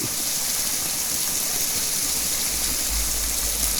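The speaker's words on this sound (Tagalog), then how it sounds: "Oh, umapaw siya amigo, umapaw. Oh, ineksperimentuhan, sinara, umapaw ang tubig." Water overflows from an open tap and gushes in a steady, loud, unbroken hiss of splashing flow, close by with no voices.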